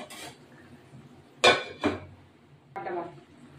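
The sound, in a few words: covering the cooking pan with a lid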